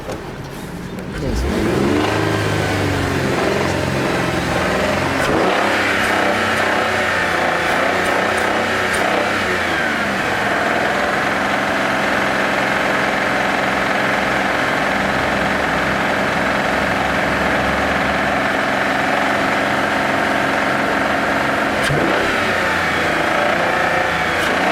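Car engine revved up to a loud, sustained roar, then holding a steady running note for a long stretch before easing back, with occasional voices in the background.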